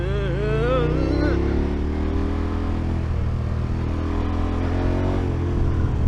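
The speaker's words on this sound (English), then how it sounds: "These bikes should just not be this much fun on these roads" A motorcycle engine drones steadily while riding on French roads, a continuous low rumble with a rising pitch early on, with someone talking over it.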